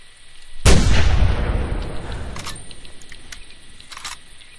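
A single hunting rifle shot in a hunting video game, one loud sharp blast that rolls off into a long fading echo, followed by faint small clicks.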